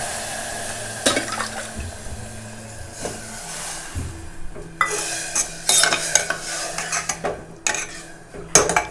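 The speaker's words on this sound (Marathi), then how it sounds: "आता मी याच्यामध्ये पाणी घालते आणि मीठ घालणार" Water is poured into a pan of roasted semolina, bursting into loud hissing sizzle with stirring scrapes and clinks of a utensil against the pan, in uneven bursts.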